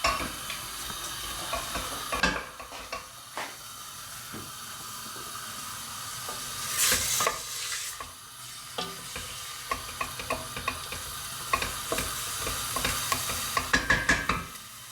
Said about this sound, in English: And you let it fry until the onions are a bit browned and bacon